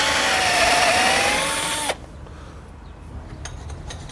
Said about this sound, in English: I'm using a fast cutter to make the receiving hole, which is specifically designed to drill through timber